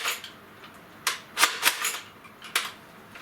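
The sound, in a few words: Nerf Doomlands Vagabond blaster slam firing rapidly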